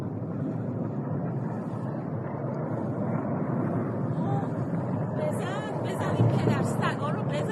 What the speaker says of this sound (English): I think I'm hearing a fighter jet in the background in this one, actually.